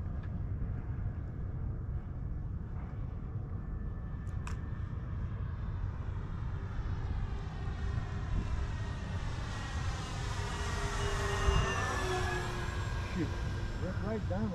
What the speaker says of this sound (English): Yeah, it's got a good sound to it with those dual props.